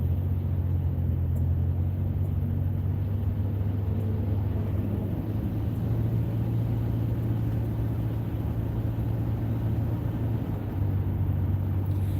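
Steady low engine and road rumble from inside a car creeping through bumper-to-bumper traffic, a continuous droning hum at constant loudness with no distinct events and no talk.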